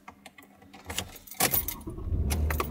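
Keys jangle close by, followed by a van's engine cranking and catching into a low, steady idle rumble.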